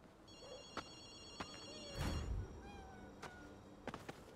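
A payphone in the video game Ghostwire Tokyo rings with short electronic trills over a quiet ambience, joined by scattered clicks and one louder thump midway, fairly faint overall.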